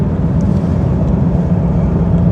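Steady loud low rumble of road and engine noise inside a moving car, an unbroken drone with no voices over it.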